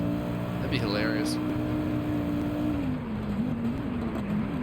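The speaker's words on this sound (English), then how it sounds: "the newer Peugeot is so quick on the dirt, on the snow" A newer Peugeot race car in a racing video game, its engine droning steadily on a snow stage, with pitch shifting as it revs and eases, heard under commentators talking.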